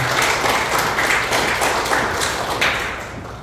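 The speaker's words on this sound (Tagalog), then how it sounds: "Palakpak natin." A church congregation applauds together, a dense, steady wash of clapping that fills the space and slowly tapers off.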